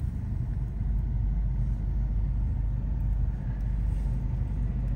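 Heavy Christmas Eve traffic near the La Trinidad Municipal Hall, a deep, steady low rumble of many vehicles and engines close by, continuous with no voices.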